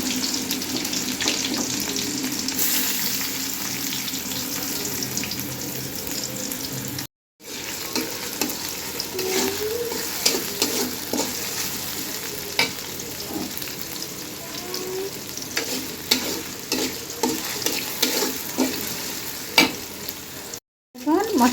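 Spice paste for beef tripe curry sizzles and fries in a hot pan, stirred steadily with scraping spoon strokes throughout; continuous close frying hiss with two brief dropouts.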